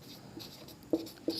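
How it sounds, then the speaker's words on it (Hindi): Someone writes during a lecture on the Vedic period: faint scratching strokes and two sharper taps against a surface, close by, with no talking. "और आगे लिखेंगे"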